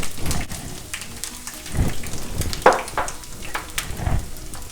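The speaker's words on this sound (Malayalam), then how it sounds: "കടുക് പൊട്ടി വരുമ്പോൾ അതിലേക്ക് കുറച്ച് കറി ലീവ്സ് ഇട്ട് കൊടുക്കാം." Mustard seeds crackle and pop in hot oil with curry leaves and ginger sizzling alongside, a dense spattering fry with sharp pops scattered throughout while cooking a prawn masala.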